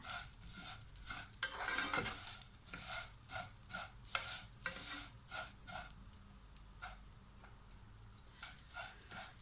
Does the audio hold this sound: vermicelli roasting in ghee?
yes